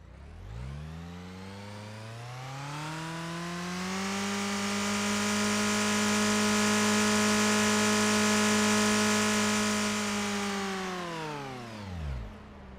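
A car engine revved as the accelerator is pressed: a smooth whine climbs, holds at a high steady pitch for several seconds, then drops back to idle with a slight blip at the end, loud and alone.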